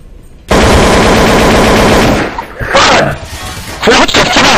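Automatic gunfire in the video game Counter-Strike: Source, a loud rapid burst of shots lasting nearly two seconds, then shorter bursts and impacts, with a voice shouting over the shooting.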